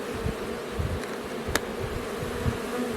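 Honey bees buzz densely around an open hive during a late-summer split, a steady close swarm drone with individual insects whirring past the microphone.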